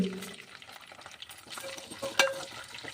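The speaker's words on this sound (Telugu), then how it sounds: "పచ్చిమిర్చి, పల్లీలు, వెల్లుల్లి, శనగపప్పు బాగా వేయించుకోవాలండి." Green chillies, peanuts, garlic and chana dal frying in oil for tomato chutney, a soft sizzle with scattered stirring scrapes and a brief sharp clink of utensil on pan near the end.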